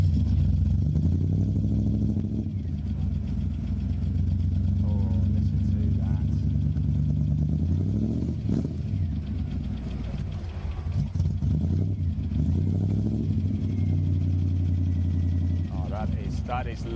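A BMW car engine at Donington Park during a BMW summer festival event, heard as a steady low engine drone with rising revs, sustained throughout, with a person talking over it.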